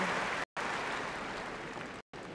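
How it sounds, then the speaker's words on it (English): Crowd applause rings around Wimbledon's Centre Court during a men's tennis match, a dense, steady wash of clapping that fills the stadium, broken by two very short gaps. "applause ringing round the entire centre court"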